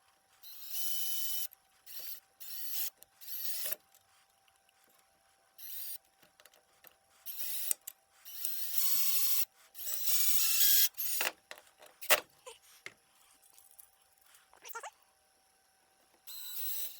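Screw driven in with a powered driver to mount a laser parking assistant in a garage, in several whirring bursts of a second or two each separated by pauses, close and fairly loud, with small clicks between.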